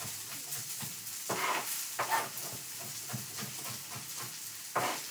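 Steady sizzling of onion frying in a pan, a constant hiss punctuated by occasional louder crackles and stirring scrapes, close up with no voices.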